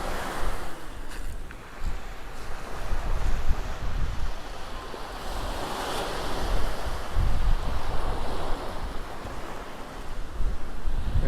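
Choppy waves slosh steadily around a SwellPro SplashDrone 4 floating on open water, a continuous close wash of surf mixed with gusting wind noise on the microphone, no voices.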